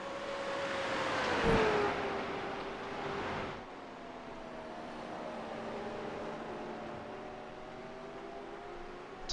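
Continuous engine drone of a Supercar racing at Suzuka in the iRacing video game, swelling as it revs and accelerates, then dropping to a steadier, slightly quieter whine with a faint background hiss.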